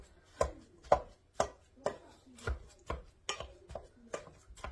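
Partly frozen ground turkey is broken up by hand into chunks, giving a steady series of about ten sharp, close cracking and squelching impacts at a regular rhythm, with no talking.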